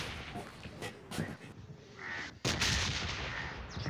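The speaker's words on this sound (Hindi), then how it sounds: "चारों तरफ बमबारी हो रही है।" Bombardment explosions in the mobile shooter BGMI, sharp booms and blasts scattered around, with a heavy impact late on over faint game ambience and occasional speech.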